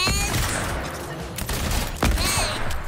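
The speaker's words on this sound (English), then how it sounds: "Oh, we shot someone in midair, that was cool." Bursts of gunfire in a Fortnite match with several players nearby, rapid overlapping shots and booms layered over busy game effects, loud and dense across the short stretch.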